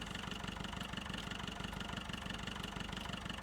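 A tractor fitted with a front loader idles in Farming Simulator 15, a steady, even engine rumble with a fast regular low pulse holding constant throughout, no voices over it.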